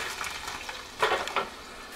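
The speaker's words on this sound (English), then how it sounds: "Look at that broccoli sizzle." Broccoli sizzling and crackling in a hot pan, a steady frying hiss with a brief louder burst of spattering midway.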